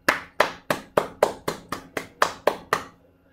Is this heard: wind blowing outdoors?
no